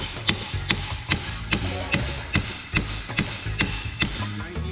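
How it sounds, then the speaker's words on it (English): Hammer blows knocking a universal joint cup out of the driveshaft yoke on a 2005 Toyota Tacoma, about a dozen sharp metallic strikes at a steady, roughly even pace, close and clear. "if I keep hammering,"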